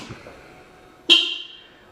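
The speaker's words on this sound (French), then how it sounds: "On va maintenant vérifier le klaxon" A Honda Hornet motorcycle horn sounds once, a sharp, loud single honk near the mic that rings briefly and fades, after a quiet moment.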